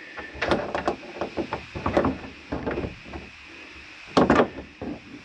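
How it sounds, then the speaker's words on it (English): Cabinet doors inside a 2021 Columbus 366RL RV snap open with a series of sharp plastic and wooden clicks and knocks in quick clusters, close by and alone. "And one last door to make sure it's snapped into open position."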